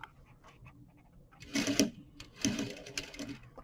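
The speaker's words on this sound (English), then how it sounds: "I'm just going to stitch from the bottom of that shield" Sewing machine on a short stitch length sewing a fly front shield, two close bursts of rapid mechanical chattering with quiet pauses around them.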